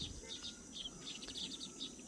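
A sparrow building its nest in a village gives faint, repeated high chirps in short bursts over a quiet hissing outdoor background.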